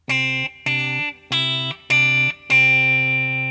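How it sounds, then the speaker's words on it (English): Five sustained notes of a C Ionian scale on a bright, distorted electric tone, each ringing about half a second with short gaps, the last one held and left to decay. "C Ionian sounded like this."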